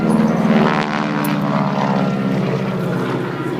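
A North American AT-6 Texan propeller plane from the early 1940s flying along an airshow line, its loud droning radial engine roaring close by and holding steady with no voices.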